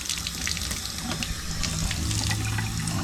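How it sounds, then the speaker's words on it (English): Water running hard from a bathtub faucet into the tub during a drain flange leak test, a steady loud splashing rush with no pause, close by and alone, with no voices. "So water's running, and as you can see, perfectly sealed and compressed."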